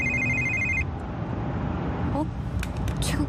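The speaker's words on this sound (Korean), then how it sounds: "휴대전화가 울렸다" Electronic mobile phone ringtone trilling for just under a second as a radio drama sound effect, followed by a steady hum of a car driving down a mountain road, with faint clicks near the end.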